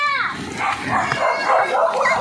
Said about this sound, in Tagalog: grabe, ang dami aso